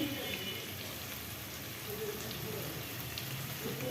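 Food fries in oil for iftar with a continuous close, crackling sizzle like light rain. Quiet voices can be heard faintly in the background.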